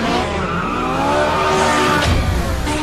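A Ferrari 458 sports car revs hard with tires squealing, a loud, close engine roar whose pitch climbs through the short burst, with no talk.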